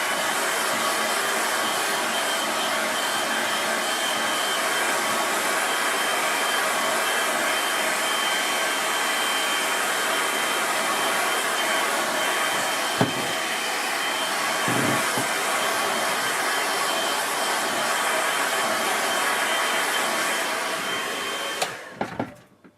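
A hair dryer blows steadily and loudly for about twenty seconds to dry a watercolour painting, with a couple of brief dips before it switches off with a click.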